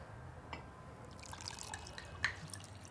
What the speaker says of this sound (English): Kostya, would you pour some wine for us, please